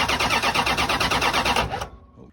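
Car engine cranking on the starter with rapid rhythmic pulses for under two seconds, loud and close, then cutting off abruptly into near quiet.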